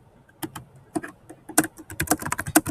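Typing on a computer keyboard, close and clear: sparse keystrokes at first, then quicker clusters of sharp clicks with brief pauses, and no talking.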